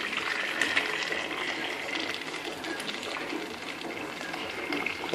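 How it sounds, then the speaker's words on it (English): Boiling water tipped from a kettle into a saucepan makes a steady, close gushing pour that runs unbroken for about five seconds, with no talking. "tip the boiling water in the saucepan"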